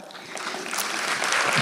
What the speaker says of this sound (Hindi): तालियों की गूंज से हिला दो ऐसा आसमान